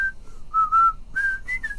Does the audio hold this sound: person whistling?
yes